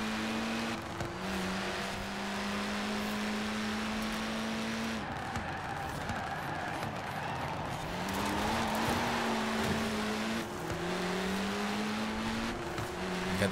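A Mitsubishi Evo 6 on race tires driving in Forza Horizon 4, its engine revving up and down through gear shifts with brief tire squeal, loud and continuous with no talk.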